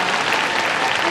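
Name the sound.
audience applause at film festival open talk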